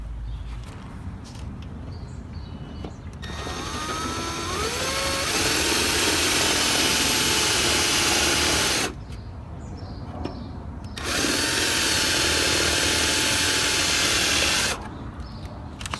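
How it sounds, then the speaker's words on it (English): A power drill runs in two long bursts, whining loudly as it bores holes into a Chevrolet Silverado's fender well, with a short pause between them and quieter gaps at the start and end. "drill your two holes here and here into the fender well"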